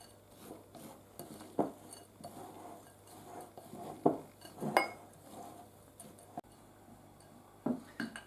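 Spoon scraping and clinking against a bowl while almonds, walnuts, sugar and cinnamon are mixed for Greek kataifi, soft irregular clinks with a few sharper knocks, close and quiet, no speech.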